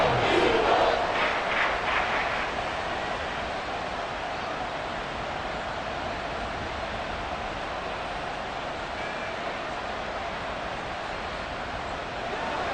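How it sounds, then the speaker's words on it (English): Stadium crowd in a Madden NFL 24 football game, a loud broadband roar building to a brief cheer at the start, then holding as a steady wall of noise to push for a false start on third and inches. "this crowd trying to force a false start here"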